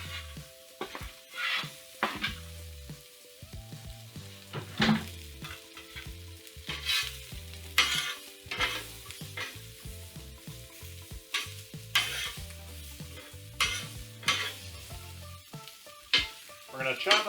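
Onions are tossed onto a hot cooking surface and sizzle, with irregular scraping and stirring bursts under steady tonal background music.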